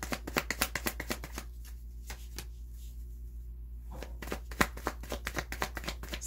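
Tarot cards being shuffled by hand, close and fairly loud, with rapid rhythmic flicks and riffles at the start and end and a few separate snaps in a quieter middle stretch.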